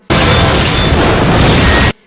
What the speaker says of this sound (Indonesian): saat dia menyalakan mobil, tiba-tiba mobil itu meledak.